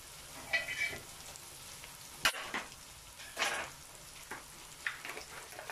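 Beef mince sizzling and frying in a pan with onions, garlic, ginger, tomato and whole spices, a steady close crackle broken by a few louder stirring scrapes.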